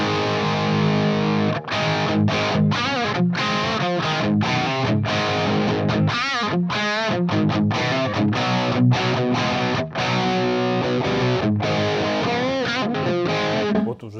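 A distorted electric guitar riff on a PRS single-cut guitar, loud and continuous, with chugging palm-muted rhythm and short gaps between phrases, played alone without speech.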